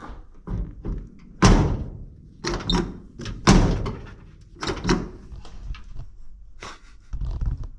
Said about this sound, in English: We can get to see how hard this door closes.